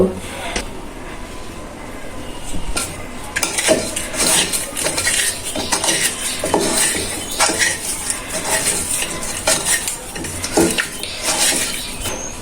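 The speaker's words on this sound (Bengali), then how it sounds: "মাছগুলো এখন আমি হলুদ ও লবণ দিয়ে মাখিয়ে নেব" Pieces of bhetki fish are rubbed by hand with turmeric and salt in a bowl, giving close, irregular wet squelches and light clinks against the dish in uneven bursts.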